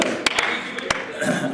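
A few sharp hand claps ring out at a public convention Q&A session, several distinct isolated smacks over a background of crowd noise and talk.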